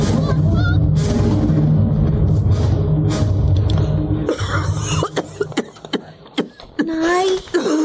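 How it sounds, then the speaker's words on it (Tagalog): A person coughs repeatedly in rough bursts over a noisy background, the coughs sharp and close, with other voices talking around them. "inuubo naman po kayo"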